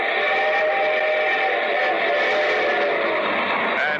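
Radio-drama train effect opening a railroad music show: a steady rolling rumble with sustained whistle-like tones, loud and continuous throughout with no voices over it.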